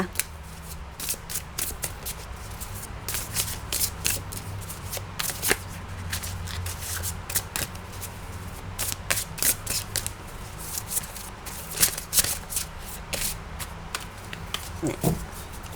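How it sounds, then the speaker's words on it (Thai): Tarot cards are shuffled by hand in quick, repeated riffles and slides, close and fairly loud, with a busy irregular rhythm of crisp flicks over a low background hum, and no talking. "เริ่มสับไพ่"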